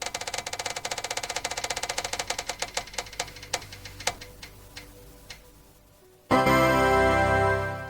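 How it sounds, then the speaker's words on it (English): A task roulette wheel spins with quick, even clicks that slow into sparser ticks as it coasts to a stop, followed by a burst of louder noise after a brief silence. "I am going to spin the wheel and see what we are going to do for the next hour."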